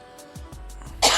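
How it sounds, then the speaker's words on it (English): A man coughs and clears his throat after choking up mid-conversation, several short close bursts in a quick rhythm, ending in a louder harsh hack. "I done choked myself up and coughing and got my throat all wrong"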